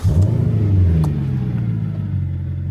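Engine of a Mercedes CLK 63 Black Series with a swapped-in manual gearbox, running after a key start: a loud, steady low rumble with a brief rev flare near the start, settling into an even idle.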